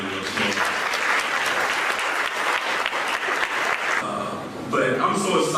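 Loud, sustained audience applause at a Hall of Fame ceremony honoring its advisory committee, with steady clapping and some cheering filling the whole stretch.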